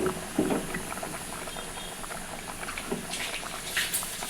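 Fish curry with cut raw mango simmering in a pot, giving a steady, soft bubbling and gentle liquid patter at close range with no talking.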